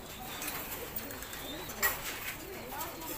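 Pigeons coo softly in a loft, with low murmuring calls rising and falling over faint background rustle and a few brief clatters.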